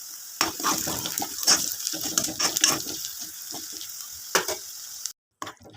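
Onions, ginger paste and turmeric frying in hot oil on a high flame for chicken curry, a steady close sizzle with bursts of stirring scrapes, then a brief cutoff near the end.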